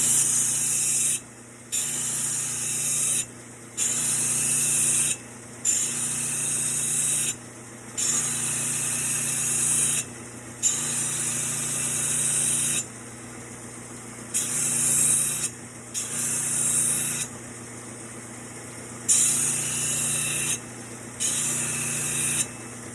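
A steady high-pitched grinding hiss of a belt sander sharpening an axe edge, running in repeated passes with brief pauses between each stroke.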